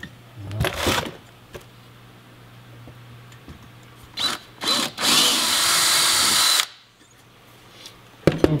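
A power drill with a number 43 bit bores a hole during a parking brake switch install on a 1966 Chevelle: a short whir, two quick bursts, then a longer steady grind before it stops.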